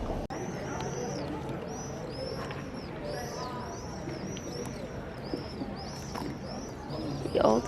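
Pigeons coo repeatedly in a rhythmic series of soft, rolling calls in the old port area of Dubrovnik's Old Town, close by, over a light outdoor murmur.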